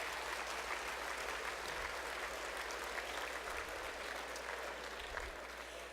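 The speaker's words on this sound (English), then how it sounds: "So how about a round of applause for Anderson?" An awards ceremony audience at Portland State University applauds for Anderson, steady, even clapping from a large crowd, heard at moderate distance and fairly quiet, with a faint low hum beneath.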